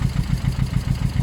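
A Suzuki GS500 motorcycle fitted with a slip-on exhaust idles close by, its low engine thumping in a steady, even, rapid pulse with no speech over it.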